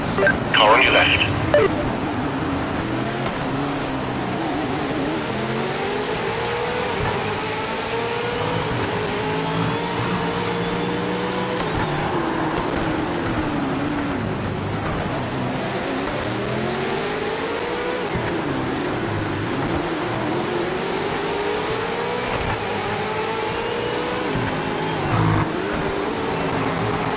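Simulated V8 Supercars race engines from a Ford versus Holden racing game rev and drone steadily for the whole stretch, loud and close, with a person talking over the engine noise throughout.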